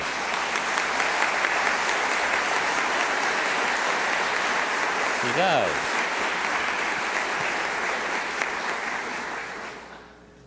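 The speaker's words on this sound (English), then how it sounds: "she deserves applause for that beautiful voice of hers" Applause from a gathered audience for a nun's singing fills the room, a steady, broad wash of many clapping hands that fades away at the end; a voice speaks briefly partway through.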